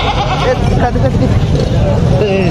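A goat bleats amid a noisy livestock market crowd in Tando Muhammad Khan, with chatter and background traffic, the calls wavering over constant hubbub.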